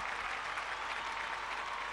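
A studio audience on a television show claps for the DJ, a steady even wash of many hands at a low, distant level with no voices over it.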